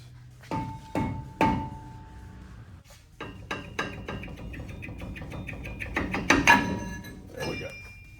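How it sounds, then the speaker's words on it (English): Mallet blows on a Ford F-150 brake rotor to knock it loose, several sharp metallic thunks with ringing clinks, spaced irregularly and then struck in a quicker cluster near the end. "just take your mallet here or whatever and give it a couple blows"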